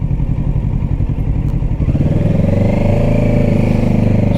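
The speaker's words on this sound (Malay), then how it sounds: "So inilah Modenas X Kawasaki Ninja 650 version 2023" A 2023 Modenas X Kawasaki Ninja 650 motorcycle engine runs close by, first a rapid pulsing idle, then a deeper, smoother steady drone after about two seconds, loud and with no voices.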